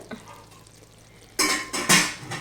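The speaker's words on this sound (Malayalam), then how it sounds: "ഇളക്കി ഇങ്ങനെ ഇളക്കി കൊടുക്കാം" A spoon stirring chilli gobi in a pan, with a quiet start followed by bursts of loud scraping and sizzling strokes near the end, close by.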